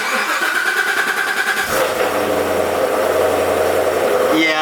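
Corvette Z06 engine switched from touring into sport and track mode: a loud, close, steady roar that shifts character partway through into a deeper, fuller rumble, with a rising rev at the end.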